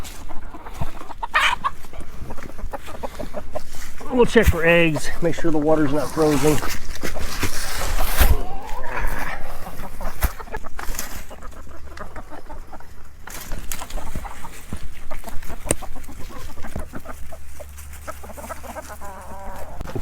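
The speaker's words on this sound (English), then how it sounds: "I'm going to let the chickens out for a few minutes" Chickens clucking loudly near an off-grid coop just after being let out, busy overlapping calls and squawks, with someone talking over them throughout.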